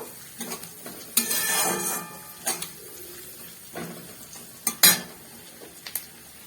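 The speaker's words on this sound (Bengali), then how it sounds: "দিয়ে দেবো কতগুলো চেরা কাঁচা লঙ্কা, এইটাকেও আমি কিছুক্ষণ ভেজে নেব" Slit green chillies fry in a pan for chilli chicken, with bursts of sizzling and spatula scrapes and clinks against the metal, loud at moments and quieter between.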